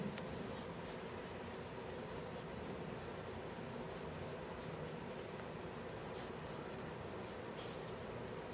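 A graph is drawn on a board in a lecture room, with faint, repeated marker or chalk strokes in short bursts over a constant background hiss. No voices are present.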